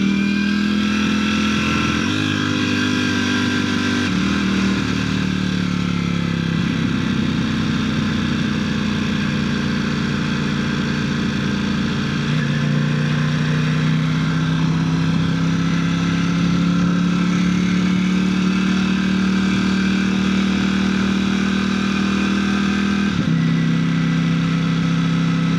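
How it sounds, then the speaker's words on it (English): A motorcycle engine runs steadily close by, first idling, then settling into a deeper, smoother note after the clutch is pulled in and the two rear cylinders shut off, with a brief blip near the end. "You pull the clutch all the way in and she shuts off the 2 rear cylinders so that it doesn't cook you at a light"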